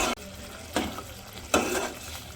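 Beef curry sizzles in a pan as it is stir-fried, a low hissing bed broken by two louder bursts of scraping and stirring about a second apart.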